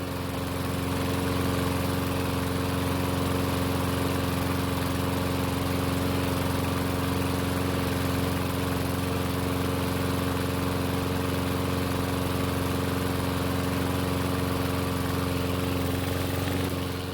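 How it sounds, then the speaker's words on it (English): A Murray lawn mower engine, primed by hand because of a doubtful carburetor, runs at a steady idle right from the start, loud and close with an even, constant drone throughout. "It started on the first pull"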